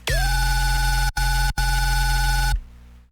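A loud, buzzing bass tone made in the Phase Plant synthesizer swoops into pitch, cuts out twice briefly, then stops abruptly, leaving a faint tail.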